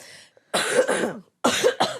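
Two bursts of coughing, close and loud: one longer rough cough fit, a pause, then a couple of quick sharp coughs.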